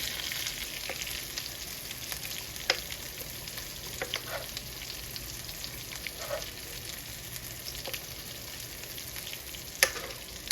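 Cod fillet frying in grapeseed and olive oil, basted with garlic butter: a steady, soft sizzle throughout with occasional sharper crackles and spoon taps, fairly close and moderately quiet, no talking.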